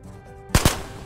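Two quick, loud gunshots fired in rapid succession in the VR shooter Ghosts of Tabor, cracking over a quiet background hum.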